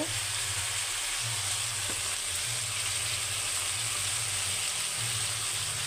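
Onions with salt fry gently in a pan for a chicken curry, giving a smooth, even sizzle that hisses steadily up close with no stirring strokes or voices standing out.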